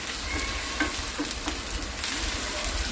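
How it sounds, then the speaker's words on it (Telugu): Chicken sizzles in hot oil in a pan while being stirred, a dense close frying hiss with occasional scraping clicks of the utensil. "ఇది కూడా పచ్చివాసన పోయి మంచిగా వేగాలి బాగా కలుపుకోవాలండి"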